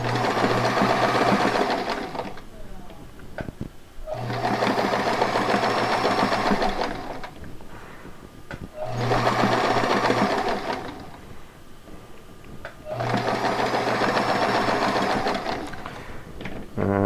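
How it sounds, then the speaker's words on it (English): Sewing machine hemming around a fabric edge over shock cord for a toe cover, four loud bursts of rapid stitching separated by short quiet pauses with faint handling sounds. "I'm just going to hem around the edge over the top of the shot cord."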